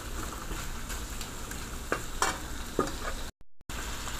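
Beef and potatoes stir-frying in a pan, a steady close sizzle with a few sharp scrape and stir clacks, and a brief dropout near the end.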